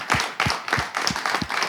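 A few people clap at a live talk show, with about five distinct, fairly close claps in a slow, uneven rhythm and short gaps between them.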